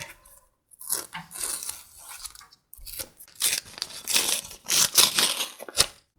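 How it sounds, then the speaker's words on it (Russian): A paper surprise packet being opened, with bursts of crisp crinkling and rustling paper in close, uneven handling across the whole stretch, no talking. "Открываем пакетик."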